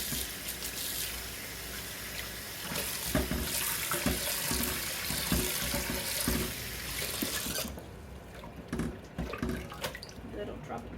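Tap water runs into a kitchen sink as a cooking pan is washed after preserving green beans, a steady close rush with some clatter of the pan, then thinning to scattered splashes and drips near the end.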